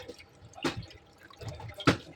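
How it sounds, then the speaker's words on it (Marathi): Water is drained off soaked potatoes in a kitchen, giving a few short splashes and drips, two of them sharper and louder, close by with no talk. "बटाटे मी पाण्यात ठेवले होते, त्याचं पाणी काढून देते आता"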